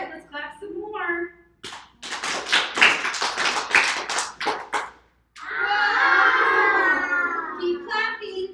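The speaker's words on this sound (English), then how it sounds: "Keep clapping. Keep going." Children in a classroom-style activity clap their hands in a quick burst of sharp, repeated claps at close range, followed by a sustained chorus of young voices shouting together.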